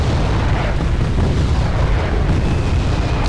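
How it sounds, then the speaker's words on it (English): Mortars firing in the video game Wargame, a loud, sustained barrage of booming blasts merging into a heavy, continuous rumble with no pauses. "Now you can see my mortars firing."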